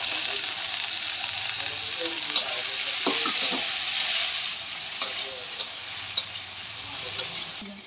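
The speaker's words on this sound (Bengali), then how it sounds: "প্রথমে ফার্স্ট হচ্ছে তেল দিয়ে নিতেছি এখন ঢ্যাঁড়স দিয়ে দিতেছি" Okra fries in hot oil with a loud, dense sizzle that runs steadily, punctuated by crisp spatula taps and scrapes, a few spaced clicks toward the end, and no speech.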